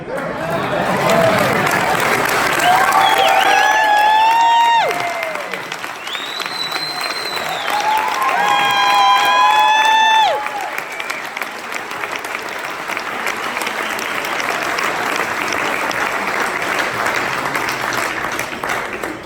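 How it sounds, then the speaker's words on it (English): A crowd at a regional 7k Metals event applauds loudly and steadily, with whoops and cheers rising above the clapping twice, and the applause carrying on for nearly twenty seconds. "let's give this man a big applause"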